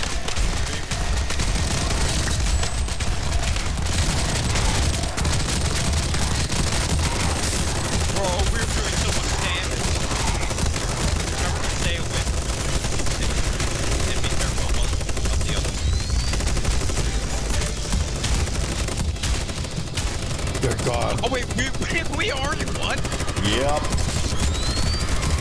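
Minigun fire in the video game Tower Unite, a continuous dense rattle of rapid shots running nonstop at high level, with voices talking over it.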